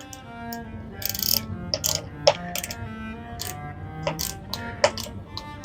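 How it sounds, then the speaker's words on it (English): A torque wrench tightens bolts on a Canyon Endurace CF SLX road bike, producing a series of sharp, close mechanical clicks at uneven intervals over quiet ratcheting. "that torque wrench, of course, will click"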